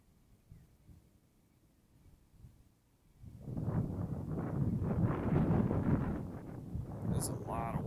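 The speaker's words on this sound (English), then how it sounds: "That's a lot of wind, man." Strong gusty wind roaring across the microphone while fishing, starting faintly and then surging to a loud, sustained rumble for the last several seconds.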